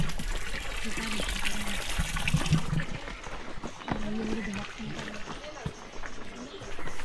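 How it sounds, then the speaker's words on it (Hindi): Small children play with trickling water at an outdoor museum in Ratnagiri, a continuous splashing dribble heard close by under people talking. "यहाँ पर छोटे बच्चे पानी के साथ खेल रहा है।"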